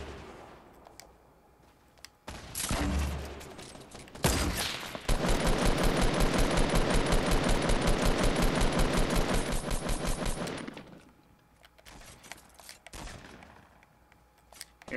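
Sustained automatic gunfire in Fortnite Battle Royale, a dense, loud burst of rapid shots lasting about six seconds after a couple of single heavy blasts, with quieter game ambience before and after.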